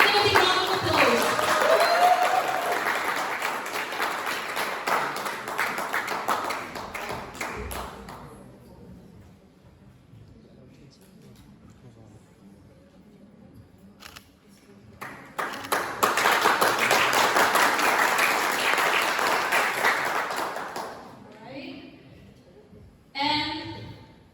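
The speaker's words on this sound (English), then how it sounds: "Give them a big round of applause." A university quiz team at a competition final gets a burst of audience clapping that fades out, a quieter gap, then a second loud round of applause before dying away.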